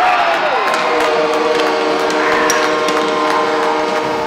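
A hockey arena crowd roars and cheers loudly at a game, a dense sustained wash of voices with whistle-like tones and a descending tone near the start.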